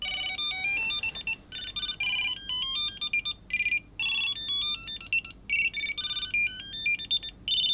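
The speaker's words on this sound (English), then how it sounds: "all of these trackers, aside from the AirTag, have a piezoelectric speaker" Shrill electronic beeps from a Bluetooth tracker's piezoelectric speaker play a quick, choppy melody in bursts with short gaps, like an old phone ringtone, close and clear.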